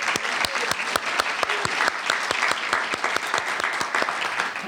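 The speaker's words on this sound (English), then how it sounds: "So give them a round of applause." Audience applause fills a room at an art show and artists presentation, a steady, dense patter of many hands clapping close by, running continuously throughout.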